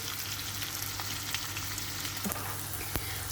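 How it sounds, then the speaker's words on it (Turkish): Onions sauté in melted butter in a pan, a steady close sizzle with occasional stirring clicks and one sharper knock near the end, no talking. "Şimdi soğanlarımızı e, koyup kavuracağız"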